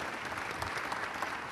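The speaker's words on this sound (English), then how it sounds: "And Reverend Douglas, give him a round of applause, Reverend Douglas" An audience at a church event on cooperative economics applauds, a steady, full wash of clapping that continues evenly throughout.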